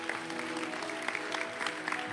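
Congregation applauding during a church service, a brief patter of clapping over a steady sustained tone in the room.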